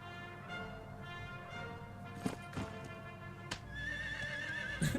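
Horse in the game Dragon Quest XI, neighing with a clear whinny alongside hoof clip-clops and a few sharp hits over a steady musical background, fairly quiet, no talking.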